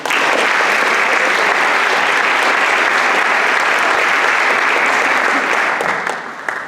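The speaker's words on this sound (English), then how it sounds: "Can we give them a round of applause?" Sustained audience applause at a community scholarship night, a dense, steady wash of many hands clapping that stays loud throughout and tapers slightly at the end.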